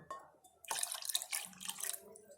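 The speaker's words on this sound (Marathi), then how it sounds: "आपण थोडं पाणी ओतायचं." Water poured into a pot of sambar while cooking, giving a soft, short pouring splash with a few drips, faint and close in a quiet kitchen.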